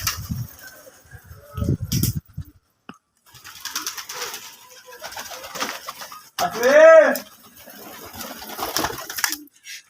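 Cooing from a roomful of prized pet pigeons, soft throaty coos scattered through the stretch with one louder, clearer coo near the middle, while people talk around them.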